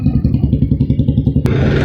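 A Suzuki Access 125 BS6 scooter engine chugs at close range in a rapid, steady pulsing rhythm, then ends with a sharp click followed by a smoother, rising engine tone.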